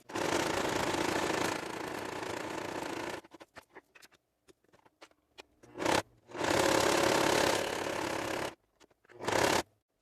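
A domestic sewing machine stitches a triple straight stitch for beginner embroidery. It runs in loud, close bursts: a long steady whir, a quiet gap with small clicks, then another sustained run and short spurts, with no talking.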